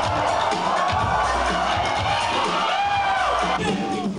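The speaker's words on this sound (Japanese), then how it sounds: "その桁外れのダンスに場内からは早くも大歓声。" A large crowd at a breakdance competition cheers and shouts continuously, loud and sustained, with a few higher whoops rising over the roar.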